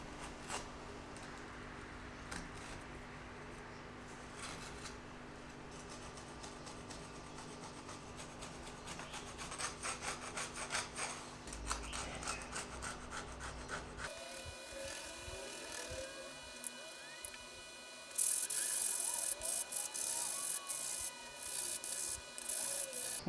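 Steady scratchy rubbing of sandpaper on the rubber-backed material of reed organ pallets, continuous and close, growing louder and harsher toward the end.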